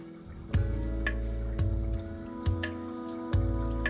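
Tap water runs steadily while sun paper is rinsed until the water runs clear, a continuous close flow broken by four soft splashing pulses.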